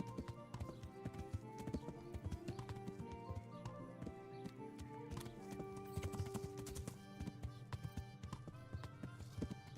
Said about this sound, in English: When you hear a horse